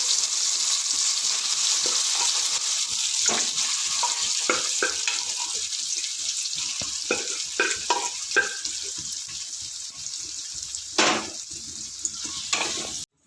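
Papaya erissery curry is stirred into a hot tempering of oil, chillies and curry leaves, giving a continuous close sizzle broken by scraping stirs and wet splattering pops, with no talking.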